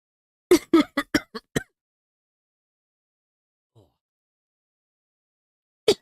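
A quick burst of five or six harsh coughs in a row, close and loud, then near silence with a faint sound, then one more cough at the end.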